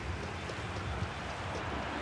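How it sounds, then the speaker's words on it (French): Steady rain hisses throughout a football match in a video game, a dense, even wash of falling rain without pauses or voices. "comme vous pouvez le constater, il pleut"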